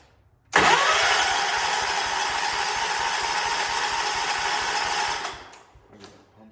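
A 1979 John Deere 214 lawn tractor, left sitting for a few months, cranks with a loud, steady mechanical whir for nearly five seconds, then cuts off abruptly and fades to quiet.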